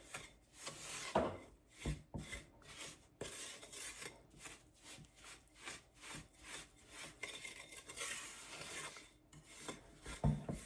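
Sugar is creamed into butter by hand for plum bread, a quiet gritty rubbing and rasping in a bowl, repeated in irregular strokes with an occasional faint clink.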